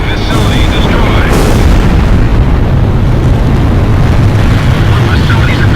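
A destroyed enemy facility explodes in Ace Combat Zero, a loud, sustained booming roar mixed with jet aircraft noise and brief sharp bursts, with a voice partly audible under it.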